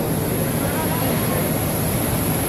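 A loud, steady roar of an Akasa Air airliner's engines at an airport fills the air, constant and close, with a high whine running over it, as passengers disembark.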